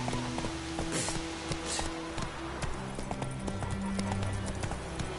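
Hoofbeats of Roach, Geralt's horse in The Witcher 3, galloping in a steady clip-clop rhythm over a continuous game music bed, with a few brief sharper accents.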